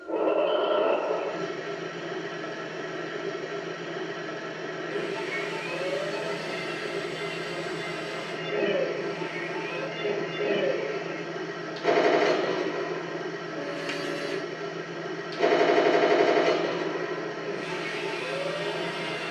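A Heng Long 1:16 scale German Leopard 2A6 RC battle tank runs its start-up engine sound effect, a steady mechanical rumble that holds throughout with a few louder bursts, heard alone.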